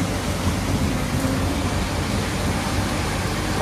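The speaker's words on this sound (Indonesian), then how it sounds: "Wah ini nganjuk hujan terus banget teman-teman." Rain falling steadily at Nganjuk train station, a loud even hiss of downpour with no breaks and no voices.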